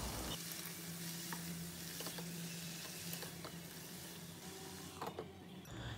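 Potatoes and ash gourd fry in oil tempered with bay leaf and dried red chilli, a steady close sizzle throughout with occasional light clinks of stirring.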